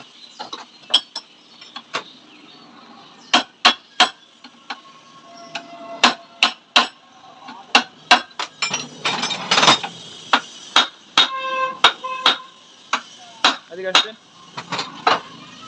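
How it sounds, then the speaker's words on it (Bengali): Sharp metallic clanks and taps ring out in an irregular series as the nut on a Yamaha FZ-X mono shock absorber is worked loose, with short ratcheting and creaking bursts between the loud hits. "শকারের নাট খোলা হয়ে যাচ্ছে।"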